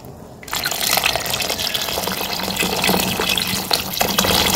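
Water pours steadily and loudly into a pot of Filipino laoy vegetable soup, a continuous splashing gush that starts abruptly and keeps running to the end.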